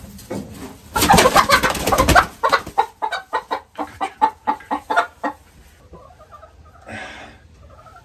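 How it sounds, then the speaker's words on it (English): Chickens in a homemade animal shelter coop cluck and squawk nearby, opening with a loud burst of agitated calls, then a run of rhythmic short clucks before softer calls trail off. "The chickens love it in here."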